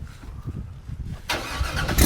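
A V8 Dodge Charger fitted with a Corsa intake and exhaust cranks and fires, a low rumble giving way to a loud, broadband roar that swells toward the end.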